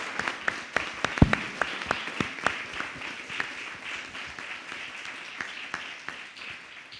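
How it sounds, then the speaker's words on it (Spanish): Applause from a conference panel audience, steady clapping with sharp individual claps standing out, continuing for several seconds without voices. "Aplausos."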